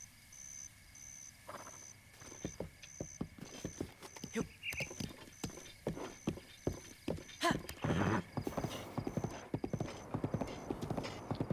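Horse hooves clip-clop at a steady walking rhythm in Zelda Breath of the Wild, close and distinct, with a brief whinny early on and a constant faint tone of the game underneath.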